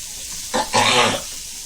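Sliced onions and salt go into a hot oiled pan with ginger-garlic paste. A sudden loud sizzle swells for about half a second and then settles into a steady background hiss.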